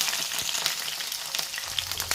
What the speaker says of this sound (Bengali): প্রথমে পটলগুলো আমি ভালো করে ভেজে নেব